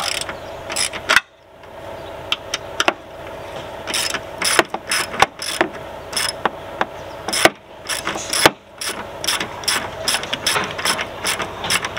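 A ratchet wrench with a 13 mm socket and extension clicks through repeated bursts as it tightens and loosens a fastener on a Renault Koleos front suspension, with short pauses between runs of close, crisp pawl clicks.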